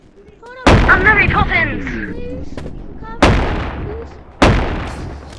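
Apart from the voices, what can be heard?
shotgun fire in video game Animal Company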